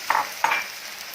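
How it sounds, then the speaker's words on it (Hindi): Tomato puree and green chili frying in masala with browned garlic, ginger and onion in a pan, heard as two quick stirring scrapes with a wet sizzle, close and moderately loud, then a soft steady hiss. "अब इसको 2-3 मिनट के लिए भूनेंगे।"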